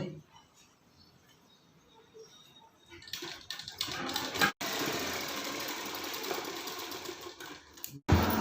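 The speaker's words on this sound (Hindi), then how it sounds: "इसी प्रकार इसको ऐसे सिलाई लगाएं।" A sewing machine stitches a pocket onto a shirt, starting after a quiet stretch and then running as a steady, loud mechanical whir that stops briefly once and resumes, close by with no talk.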